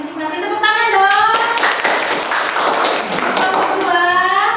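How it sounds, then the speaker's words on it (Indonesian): A class of students in an Indonesian-language lesson applauds, a burst of many hands clapping that swells and then fades, with children's and a teacher's voices over it. "Tepuk tangan dong."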